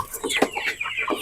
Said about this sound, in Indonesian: ini kandang ayam kita